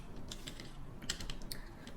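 Light, clicky keystrokes on a computer keyboard while entering a Python help command, a few quick scattered taps over a soft steady background hiss.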